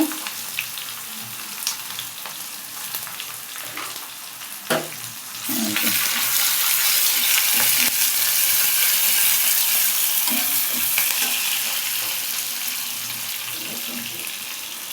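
Garlic, plenty of onion and greens fry in an iron wok, with a few stirring scrapes before a loud, steady hiss of sizzling that fills the rest and slowly eases a little.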